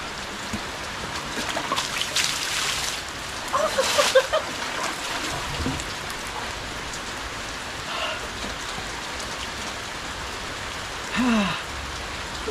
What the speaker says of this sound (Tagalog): Lumalakas pa ang ulan.